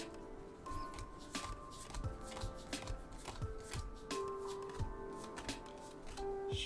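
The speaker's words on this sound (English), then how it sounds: "I'd just like to give the pack a shake a bit so that I know for sure that the cards fall to the bottom." A Digimon BT7 Next Adventure card booster pack is shaken, the cards inside sliding and patting against the foil in a quick, irregular rattle, close and quiet, with no talking.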